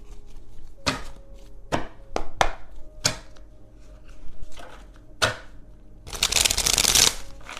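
A deck of tarot cards is handled and shuffled up close: a string of sharp, separate card slaps and taps, then a longer, louder riffling burst near the end.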